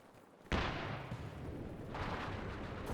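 Pack howitzer artillery in the World War II strategy game Company of Heroes 2 fires two heavy booms with long rumbling tails, the first sudden and loud, the second about a second and a half later.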